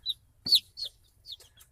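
Newly hatched egg-layer chicks in a brooder give a few short, high peeps, scattered and sparse, close by against a quiet background.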